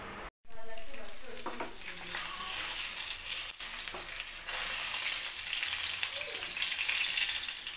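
Sardine fish frying on a banana leaf, a steady crackling sizzle close up after a short pause, with faint stirring and kitchen clatter.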